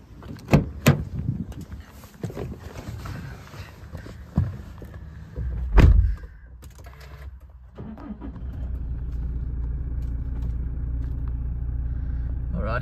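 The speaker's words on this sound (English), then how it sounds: "stepping in to turn on the car now" A 2019 SR5 is entered and started: sharp door clunks and a few knocks and thuds come first, then a heavy slam near the six-second mark, followed by a low, steady engine idle hum that continues to the end.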